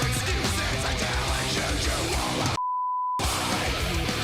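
A single censor beep, a pure steady tone lasting about half a second, cuts over an expletive in a metal song and briefly replaces the dense music before the track resumes.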